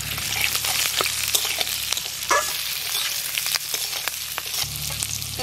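Fried potatoes sizzle in a pan with green chilies, cumin and bay leaf, a continuous close frying crackle over a low background hum, with irregular scrapes and clicks from stirring.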